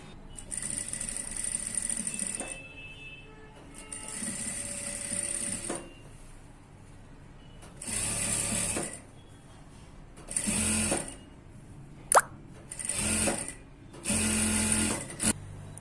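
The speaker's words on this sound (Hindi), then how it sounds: "उसके ऊपर हम इसे सिलाई लगा रहे हैं" A sewing machine stitches a cotton lining onto a fabric piece for a one-piece garment, running in several steady bursts of stitching broken by short pauses.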